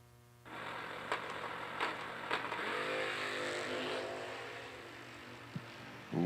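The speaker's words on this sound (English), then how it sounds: "Wheels up for Joey." A drag racing car roars off the starting line at a drag racing event, its engine jumping to a loud sustained drone that holds steady, with crowd and track ambience faint beneath.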